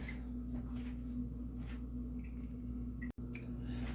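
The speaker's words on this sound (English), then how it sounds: "And I'll cut it open with a knife, separate them" A knife cuts into food while sweet potato pudding is prepared, giving a few faint, close crunching snips over a low steady hum, with a brief silent gap near the end.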